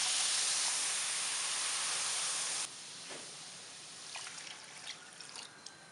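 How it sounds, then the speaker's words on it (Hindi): Water poured into sugar in a pan while making Kushaf, an Arabic sweet, gives a steady hissing pour that stops abruptly midway, followed by faint trickles and drips. "अब इसमें 2 कप के करीब ही पानी शामिल कर देंगे।"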